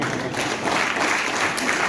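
A seminar audience claps together, a dense, steady patter of many hands that holds fairly loud and unbroken from start to finish.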